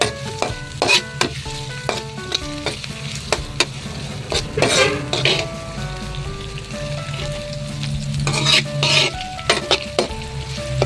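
Chopped onion and garlic toast in a hot pan for tuna carbonara, a steady loud sizzle broken by repeated scraping and clinking strokes of a utensil stirring against the pan, with no voices.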